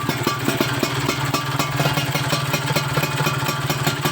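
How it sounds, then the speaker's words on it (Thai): A Honda Tena motorcycle with a swapped carburetor idles through its exhaust, a steady close, rapid low putter that holds evenly throughout. "นี่ครับใช้ฟังเสียงท่อนะครับ"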